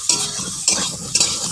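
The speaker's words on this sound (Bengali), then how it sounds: "এবার দিয়ে দেবো কেটে রাখা পটল। ভালো করে একটু ভেজে নেবো লাল লাল করে।" Sliced pointed gourd fries in oil in a pan, giving a steady close sizzle. Three scraping strokes of a spatula stir the pieces at regular intervals.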